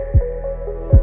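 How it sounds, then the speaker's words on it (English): A cartoonish heartbeat effect thumps twice, deep and close, about a second apart over a steady low hum, marking a tense moment as a young woman stands beside a car at night. "her heart pounding"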